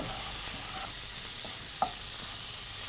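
Food frying and being stirred in oil in a pan as a Bengali fish curry is cooked: a steady, soft sizzle with a few light utensil scrapes and clinks, fairly quiet and close, with no talking.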